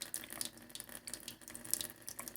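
Tap water runs steadily over a sheet of lacquered tissue foil, a quiet, continuous splashing hiss with small irregular spatters and no voices.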